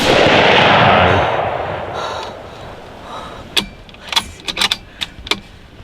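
A single loud gunshot fired at a deer on a hunt booms right at the start and rings out over about a second. Faint rustling and a few sharp clicks follow.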